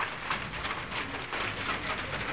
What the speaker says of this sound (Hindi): देखो दोस्तों, बारिश हो रहा है, पूरा अंधेरा लग रहा है।